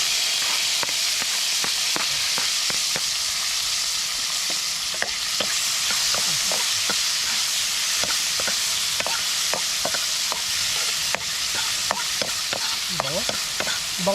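Garlic, onion and ginger sautéing in a pan, with a continuous loud sizzle and hiss of frying and frequent scraping and clinking of a utensil stirring, without any voices.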